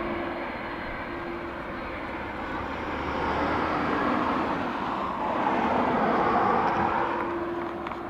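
A 27-year-old Delta Boeing 757 jet departs Dublin Airport, its engine roar rising and swelling to a broad, steady rumble with a faint hum, heard from a distance without talk.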